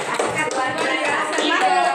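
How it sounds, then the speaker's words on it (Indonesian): A room of people claps for Ibu Mulyati in brief, close applause, a quick cluster of overlapping hand claps lasting a couple of seconds. "Tepuk tangan dulu sama Ibu Mulyati."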